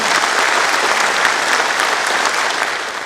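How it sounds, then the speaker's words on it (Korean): An audience at the Gwangju mayor's farewell ceremony claps in a dense, sustained round of applause that fills the hall, steady throughout and easing slightly at the end. "박수 한번 주십시오"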